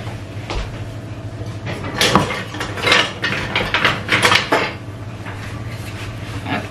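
Kitchen utensils clattering and rattling in a drawer or cupboard while a spatula is fetched, a string of clinks and knocks over a low steady hum.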